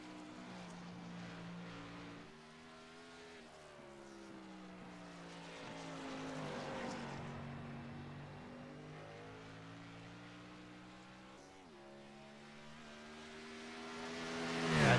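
A Ford Mustang race car, number 91, laps a track in a racing video game, its engine a steady droning whine that rises and falls through shifts, close and continuous with no talk.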